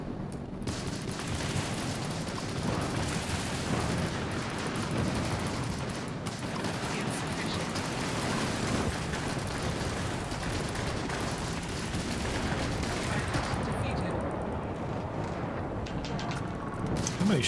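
Gunfire aimed at an enemy in the video game Starfield, in survival mode: dense, sustained bursts of shots and blasts rattle without pause over the whole stretch, loud and close.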